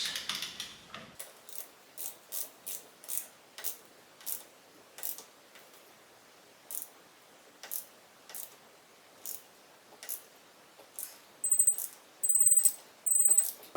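A ratchet wrench tightens the damping rod nut on the fork of a 1977 BMW R75/7 held in a vise, making a series of crisp clicking bursts in a steady rhythm, close and clear, with a few faster strokes at the end.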